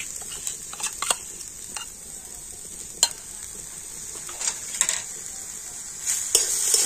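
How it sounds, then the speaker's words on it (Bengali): Grated coconut and sugarcane jaggery are stirred in a wok over a steady high hiss, with intermittent spatula scrapes and clicks against the metal. "এবার আমি নারকেলের সাথে আখের গুড়টা কিন্তু এইভাবে খুব সুন্দর করে নাড়াচাড়া করে নেব।"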